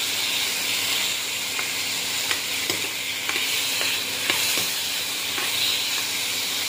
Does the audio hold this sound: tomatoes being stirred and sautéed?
yes